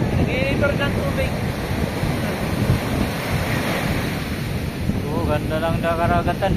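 Ocean surf rushes steadily at a beach resort in Botolan, Zambales, with heavy wind buffeting the microphone, and faint voices come through in bursts underneath.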